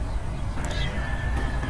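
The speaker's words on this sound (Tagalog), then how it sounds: "Slow mo yung pusa." A cat meows in a slow-motion iPhone 13 recording, giving a faint, drawn-out, lowered cry over steady background noise, close but quiet.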